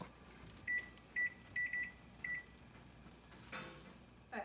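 A kitchen oven timer gives several short electronic beeps in an uneven run, single and paired tones, fairly close in a quiet room, then a brief clatter.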